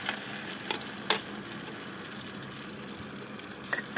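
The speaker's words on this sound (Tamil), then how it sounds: "அதையும் நல்லா கிண்டி விட்டுக்கலாம்." Onions and tomato frying in oil while being stirred, a steady soft sizzle with scattered scraping taps of the spoon, heard close and alone.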